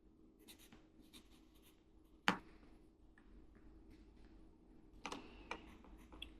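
A Lamy fountain pen nib scratches softly across paper in a quiet room, faint continuous writing strokes with a couple of sharper taps or clicks, no talking.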